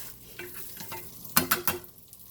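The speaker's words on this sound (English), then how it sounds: "Those 2 over easies are in the skillet." Two over-easy eggs in a cast iron skillet, a soft sizzle broken by a quick cluster of three sharp scraping or tapping hits near the end, close up with no voices.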